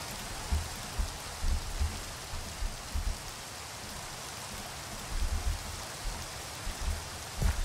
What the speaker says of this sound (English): Yeah, it is raining at the moment.